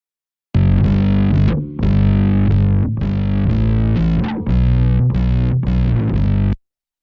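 Bass guitar run through a distortion effect, sent pre-fader, playing a loud gritty sequence of sustained notes with short breaks between phrases, alone with no talking.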